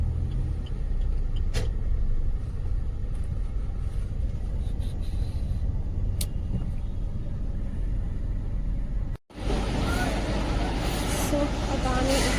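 Cars queue at a CNG filling station, their engines giving a low, continuous idling rumble nearby, while people talk over the traffic noise.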